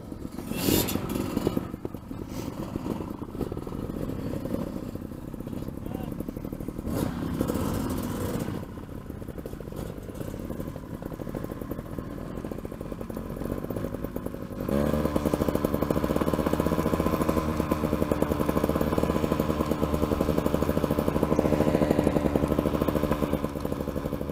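A GasGas trials motorcycle runs slowly on a low throttle, its small engine putting along close by with an uneven, sputtering note that steadies and grows slightly louder partway through.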